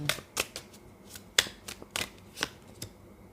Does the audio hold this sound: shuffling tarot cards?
yes